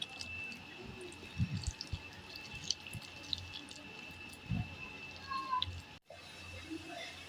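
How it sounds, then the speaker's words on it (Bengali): Fish mixture ingredients are worked together with oil by hand for a bottle gourd leaf recipe, giving soft, wet squishing and squelching at close range with small drips. The sound is faint and comes in irregular bursts. "এখন আমি তেলের সাথে সবগুলো উপকরণ একসাথে ভালো করে মিশিয়ে নিচ্ছি।"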